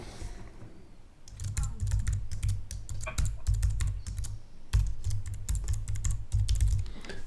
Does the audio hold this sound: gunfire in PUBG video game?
no